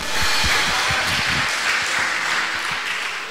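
A church congregation applauds in praise, a loud, full wash of clapping that fills the space and tapers slightly toward the end.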